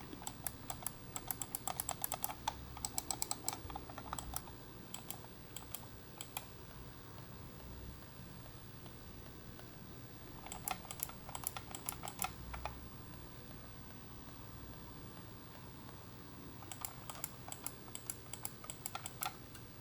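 Logitech computer mouse clicks held close, an old Logitech mouse compared with the silent Logitech M590: bursts of rapid crisp clicking alternate with stretches of much quieter muffled clicks over a steady background hiss.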